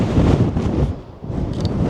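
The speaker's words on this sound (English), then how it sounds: "Ooh, it's windy." Strong gusting wind in the Columbia River Gorge near Vista House buffets the microphone with a deep, rumbling roar that swells and dips over a couple of seconds. No one speaks.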